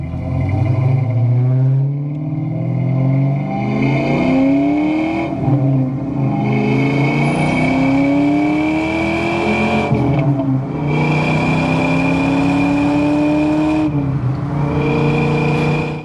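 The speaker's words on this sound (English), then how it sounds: "That full aftermarket exhaust isn't terribly loud, still sounds really good, doesn't drone you to death" A 1994 Ford Mustang SVT Cobra with a full aftermarket exhaust accelerates hard through several gears, each rising engine sweep cut by a brief dip at the shift, loud and close with a smooth, non-droning tone.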